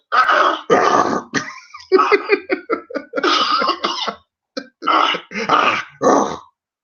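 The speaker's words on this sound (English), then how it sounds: "This cough is not working out." A string of rough, throaty bursts in uneven clusters, close and fairly loud, like repeated coughing and throat clearing with a growly edge.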